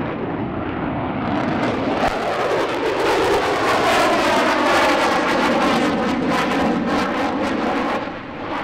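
An F-35 fighter jet makes a fast transonic pass at a military airshow, a loud, close roar that builds, sweeps past with a falling whoosh and fades slightly at the end.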